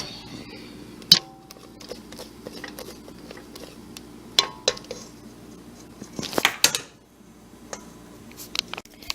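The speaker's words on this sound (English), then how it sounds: "just kind of keep mixing it until you get the desired effect" A utensil stirs and scrapes Rice Krispie treats with dye in a bowl, giving sparse clinks and soft scraping sounds close up against a quiet room, with one louder flurry of clatter near the end and no talking.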